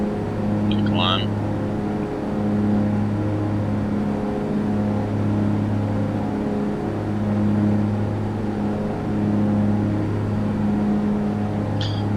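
Twin propeller engines of a Piper Navajo in a flight simulator drone steadily and loudly throughout the climb, with a constant tonal hum that barely varies.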